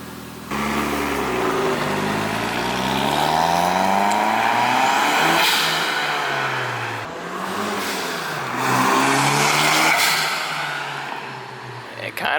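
A 1990s Toyota engine running on stock boost, revving in rising and falling sweeps close by, with a voice speaking over it.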